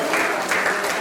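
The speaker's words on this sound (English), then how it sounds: "Keep clapping until he gets here." Steady audience applause fills a lecture hall during a university Founder's Day lecture as a guest is welcomed to the stage, dense clapping throughout at even loudness with no talk over it.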